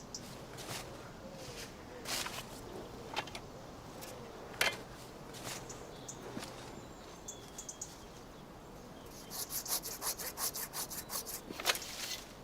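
A tool scrapes timber in a garden in short, intermittent rasping strokes, close but fairly quiet, with a faster run of scratching near the end and faint birdsong behind.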